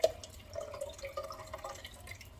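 Beef broth trickles and drips into an emptied crushed-tomato can in a home kitchen, a faint, soft pouring sound heard close up with no talking.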